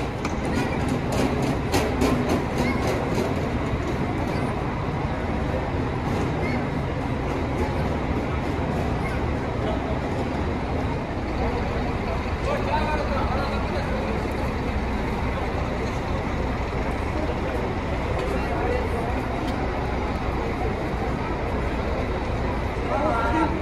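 Bus station in Goiânia with buses arriving and departing, a steady rumble of diesel engines and traffic throughout, with people talking over it.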